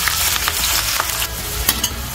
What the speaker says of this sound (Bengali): এবার আমি পেঁয়াজটা এর মধ্যে ঢেলে দিলাম।